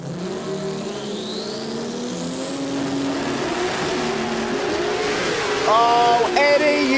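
Pro Turbo drag race cars at the Chicago Shootout roar loudly and steadily as engines rev and pull away down the strip, with a rising whine, crowd noise and a faint announcer voice in the background.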